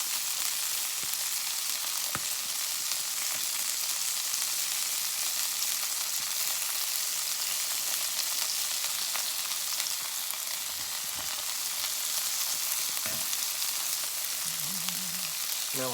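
Pre-cooked sausages and onion fry in a pan on a small portable survival stove, giving a steady, close, even sizzle throughout with a few faint clicks and no voices.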